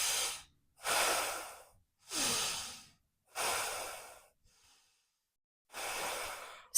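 Deep rhythmic breaths during a kundalini yoga exercise: five loud, forceful breath cycles in a steady rhythm with short silent gaps between them, close to the listener and with no talking.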